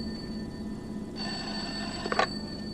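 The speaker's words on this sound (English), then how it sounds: "Sounds like the phone to me." A telephone bell rings in a radio drama scene, a steady electric ring starting about a second in and holding for over a second, with a brief rattling burst near the end, fairly quiet against a light background hum.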